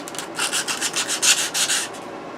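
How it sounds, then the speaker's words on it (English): Sandpaper rubbing back and forth over a knife handle in quick, steady strokes, close and fairly loud with no talking. "Take my sandpaper"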